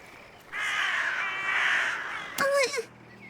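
Crows cawing in the video game Little Misfortune, a long drawn-out harsh caw followed by a couple of shorter, sharper calls, loud and close with no talk over them.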